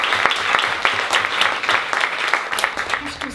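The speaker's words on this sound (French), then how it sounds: "Mesdames et messieurs, merci d'applaudir bien fort nos invités." An audience claps steadily, a dense patter of many hands, fairly close and lively, with no talking over it.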